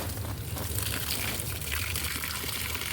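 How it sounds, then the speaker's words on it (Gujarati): Water gushes and trickles steadily at a farm, a continuous close, even rush with no pauses and no voices. "હવે પાણી આવશે"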